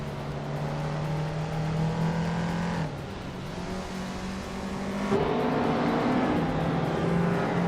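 A classic 1978 BMW M1 race car in a racing video game holds a steady, loud engine drone with shifting pitch as it accelerates and eases off through the whole stretch, with no voices.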